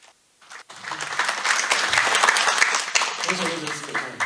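After a brief quiet moment, an audience at a Korean commemorative event for separated families breaks into applause that swells quickly and continues steadily, with voices mixed underneath.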